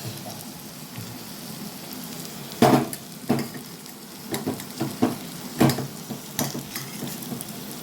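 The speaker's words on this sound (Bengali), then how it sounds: "পুরো বাঁধাকপিটা ভালোভাবে এর সাথে মিক্স করে নেব" Cabbage being mixed into a cooked-down tomato and spice masala in a pan, with a steady low sizzle broken by several scraping stirs that come in uneven bursts, close and moderately loud.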